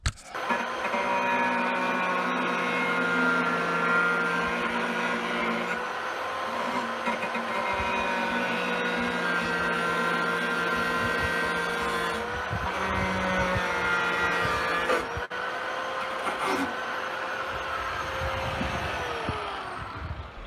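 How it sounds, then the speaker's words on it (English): An angle grinder cuts a hole through the metal floor of a VW T4 campervan, a loud sustained whine with shifting pitch as the disc loads, close by with brief dips. "Using an angle grinder."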